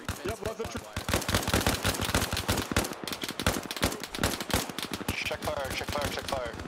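Sustained automatic gunfire in Arma Reforger: rapid, loud, closely spaced shots rattle on for several seconds, with no voices over them.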